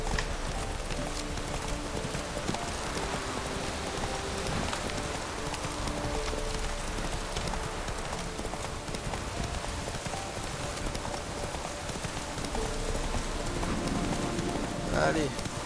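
Hooves clip-clop in a fast, steady rhythm as a horse gallops in The Witcher 3, continuing over game ambience with someone talking at times.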